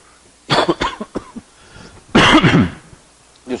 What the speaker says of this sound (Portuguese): não está dando para segurar a tosse